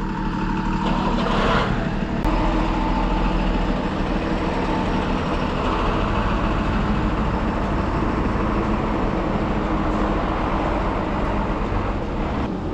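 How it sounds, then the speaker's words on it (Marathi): Tata BS6 MSRTC bus engine idling at Jalgaon bus stand, a steady low diesel rumble close by for the whole stretch, with faint station ambience and no talk. "या बसनं आपण प्रवास करणार."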